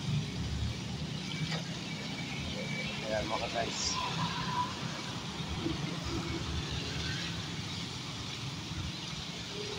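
Steady road traffic at a crossing on Area Road, busy with vehicles in heavy rain: a continuous low engine rumble and passing cars, with someone talking over it throughout.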